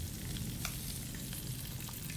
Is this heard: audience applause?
no